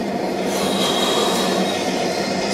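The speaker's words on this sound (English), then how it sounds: "It's the subway train, actually." Subway train rumble within a music track, a steady broadband roar with faint high whine, continuous and fairly loud throughout with no voices.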